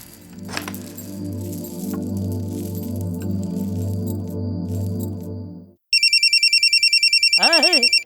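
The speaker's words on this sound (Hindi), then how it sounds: "अरे, फोन आ गया।" A steady low hum fills the first part, then an electronic telephone ring chirps in rapid repeated pulses, loud and close, with a warbling tone near the end.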